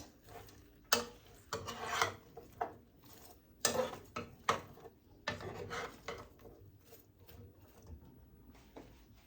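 A utensil scrapes and clinks against the inside of a pot of chicken, carrots and onions in irregular strokes, close and fairly quiet, with sharper knocks between the rubbing sounds.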